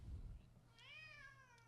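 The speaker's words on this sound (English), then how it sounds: "Sorry about my cat" A house cat gives one drawn-out, rising-then-falling meow, fairly faint and close, over a low room hum with a soft thump just before it.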